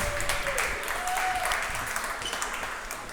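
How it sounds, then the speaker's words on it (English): An audience at a live podcast taping applauds, a steady wash of clapping from a seated crowd, moderately loud and fading slightly over a few seconds, with faint tonal sounds and murmurs mixed in. "Everybody give her a round of applause."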